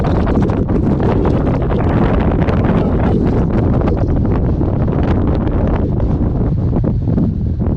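Strong wind on the hill Ysgyryd Fawr buffets the microphone in a continuous, loud roar with gusty rumbling surges throughout, no voices present.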